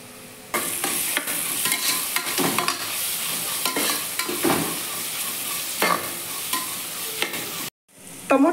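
Cashews and turmeric sizzling in a pan while being stirred, a steady close frying hiss with repeated scraping stirs throughout, no voices, briefly cutting out near the end.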